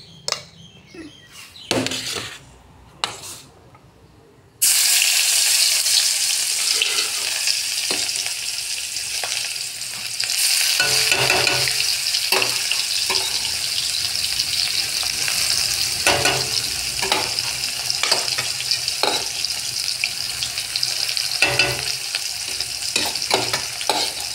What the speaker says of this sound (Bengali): এবার পেঁয়াজটা কড়াইতে দিয়ে দেবো।